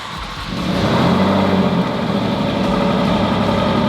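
Alfa Romeo Giulia Quadrifoglio with a resonator delete fires up close by, its engine catching with a rising bark and settling into a loud, steady rumbling idle with no talking.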